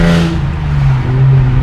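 Modified Hyundai Genesis Coupe 3.8 R-Spec V6 droning loudly from inside the cabin while driving in traffic, a steady low engine rumble with a slight rise in pitch, no talking.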